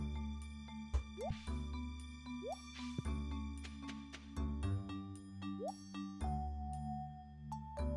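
Crops being watered with a watering can in the farming video game Stardew Valley, a string of small splashing drips and plops with rising chirp tones over a steady hum of game music.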